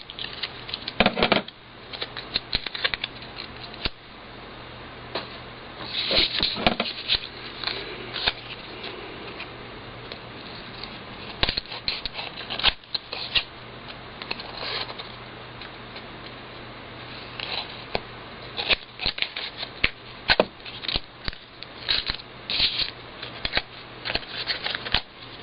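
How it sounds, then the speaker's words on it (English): Scissors snipping off excess material, heard as many quick, faint crisp snips and rustles in uneven bursts with soft handling noises between them. "I'm going to cut off the excess"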